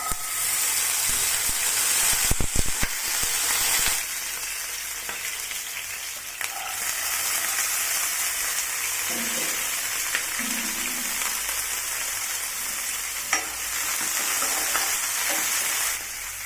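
Peas and mixed vegetables fry in hot oil for veg noodles, a loud, steady sizzling hiss close up, broken by a few clattering stirs early on.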